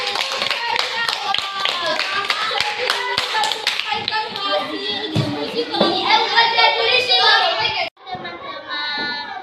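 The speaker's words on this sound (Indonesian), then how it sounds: "Ayo tepuk tangan." Schoolchildren clap their hands together loudly in an elementary school setting, a dense burst of applause mixed with excited young voices, briefly pausing before clapping resumes.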